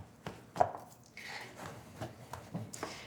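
Sourdough dough being worked and chopped with a hand tool: faint, irregular soft thuds and squishy scrapes at close range, spaced through the passage, with no voice.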